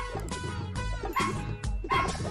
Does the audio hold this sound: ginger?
no